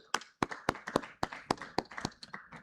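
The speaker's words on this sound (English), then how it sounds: "Please welcome her with an applause." At a business forum session, hands clap to welcome a speaker in a quick, even rhythm of sharp, close claps, roughly four per second, with no voices over them.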